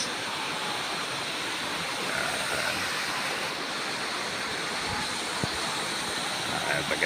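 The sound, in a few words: flowing water at Bolinao Falls waterfall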